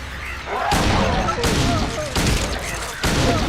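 Four loud, sharp gunshots from Silent Hill 2 crack out at a steady, spaced rhythm, each followed by a short echoing tail under constant game ambience.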